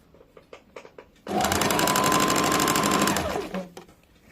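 A sewing machine sewing a kurti, a few light clicks and taps before a strong, fast, steady run of stitching that lasts about two seconds and then stops.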